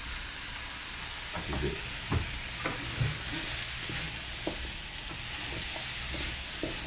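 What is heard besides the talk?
ackee frying and being stirred in a pan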